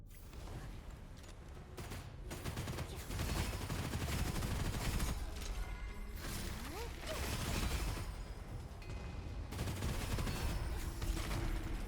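Rapid gunfire from the first-person shooter Gunfire Reborn fills a dense, loud game mix of weapon shots, impacts and effects, sustained across the whole stretch with a voice talking over it.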